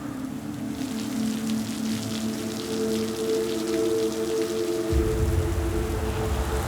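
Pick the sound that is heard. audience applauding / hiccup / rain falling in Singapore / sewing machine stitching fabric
rain falling in Singapore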